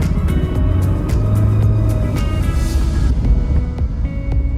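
A truck passes on the road outside a moving Mahindra Thar, its heavy rumble steady and loud over the cabin's constant engine and road noise, with no talking.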